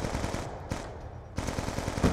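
Rapid automatic fire from a PDW-57 submachine gun in a first-person shooter video game, two close, loud bursts of quick repeated shots separated by a short pause.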